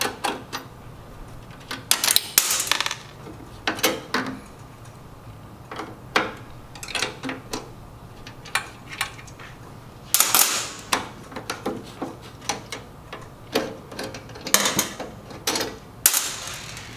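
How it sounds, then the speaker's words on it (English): Cap nuts, lock washers and Phillips screws being removed from the metal conduit retainer of a Star two-sided grill, sharp metallic clicks and clatters in uneven bursts, close and fairly loud. "Remove 2 7/16 inch cap nuts, 2 lock washers, and 2 1/4-20 Phillips screws from the metal conduit retainer."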